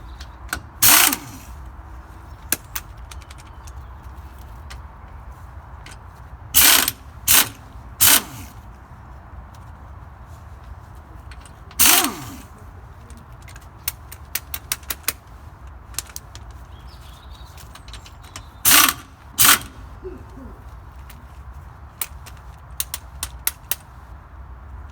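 A ratchet slackens the wheel nuts on a Ford Escort resting on the ground, giving short, sharp bursts of clicking spaced out over steady low background hum, with a quick flurry of lighter clicks partway through.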